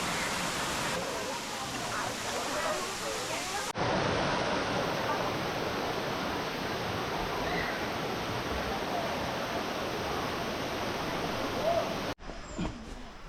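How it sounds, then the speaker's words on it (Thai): Steady, loud rushing water roars continuously, a broad wash of sound from the nearby third tier of Erawan Falls, Kanchanaburi, Thailand, with a brief change in the noise near the end. "น้ำตกชั้นที่สามนี้มีชื่อว่า ผาน้ำตก"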